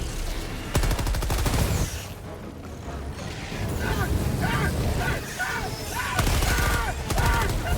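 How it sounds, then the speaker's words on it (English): Stalwart machine gun in Helldivers 2 firing at bugs: loud, rapid automatic bursts near the start and again near the end, with a busier mix of game combat noise and shorter shots between. "I'm just using my stalwart right now to help you out"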